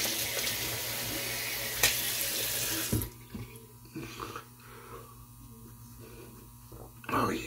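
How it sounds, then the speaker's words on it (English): Cold water runs from a tap in a loud, steady rush for about three seconds, then cuts off, leaving faint handling sounds before a brief final splash. "let's add a little touch of cold water here"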